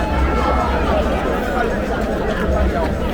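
A dense crowd at a stadium, waiting to see Lionel Messi, fills the air with a steady, loud hubbub of overlapping voices and shouting close by.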